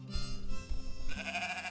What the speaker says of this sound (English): I'm gonna go through all of these sheep.